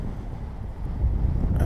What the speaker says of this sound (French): Un vent d'ouest, assez rafaleux